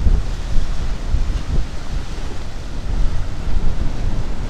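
Strong sea wind buffets the microphone at the seaside, a loud, continuous rumbling roar with gusty surges and the wash of waves beneath it, with no speech.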